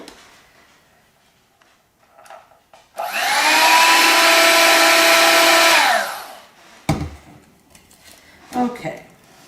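Electric hand mixer beating oatmeal cookie batter with white chocolate chips and cranberries, a loud steady whirring burst of about three seconds with a slight pitch wobble, set between quieter kitchen clatter.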